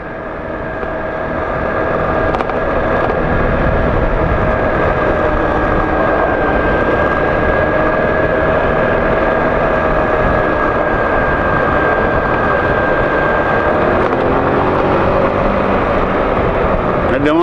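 A scooter rides through downtown West Palm Beach with a steady engine drone and loud, continuous road and wind rush, close and unbroken the whole way.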